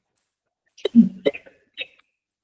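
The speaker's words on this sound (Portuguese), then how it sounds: "Uma crise de tosse." A few sharp, isolated coughs and throat-clearing bursts break up near-silence, close to the listener.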